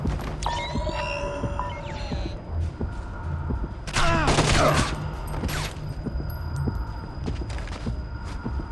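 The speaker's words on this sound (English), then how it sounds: "You gotta shoot them at least twice in the head." Gunfire from Splinter Cell: Conviction gameplay: a cluster of sharp suppressed shots fired in quick succession mid-clip over a steady game soundscape of hum and electronic tones.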